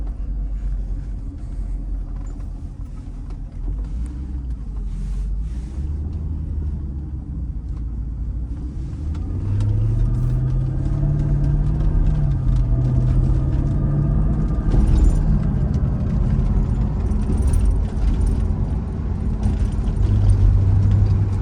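Cabin rumble from a 2006 Mercedes SL500 on coilovers and 20-inch chrome wheels as it drives gently, a steady low road and engine drone that rises slightly in pitch partway through, with no talking.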